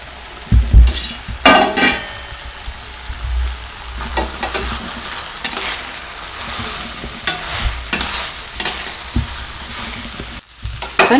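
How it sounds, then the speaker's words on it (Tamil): Battered, fried cauliflower for Gobi Manchurian being stirred and tossed in a pan over medium heat, with steady sizzling, scraping stirs and occasional clinks of the utensil against the pan, close and clear, with no talking. "மிதமான தீச்சூடு வச்சு நல்லா கிளறி விட்டுக்கலாங்க."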